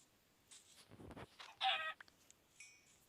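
A chicken in a farming video game gives a few short clucks near the middle, fairly close and clear against a quiet background with faint other game sounds.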